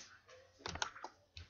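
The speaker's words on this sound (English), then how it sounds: "It's hard for me to type and say stuff at the same time" Quiet clicking of computer keyboard keys, a handful of irregular taps with small bursts of closely spaced presses, faint and close.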